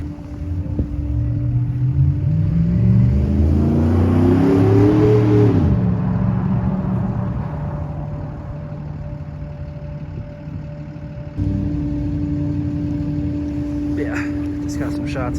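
Diesel truck engines rumble steadily nearby. One engine swells louder and rises in pitch, then falls back to a constant drone that continues under faint background sounds.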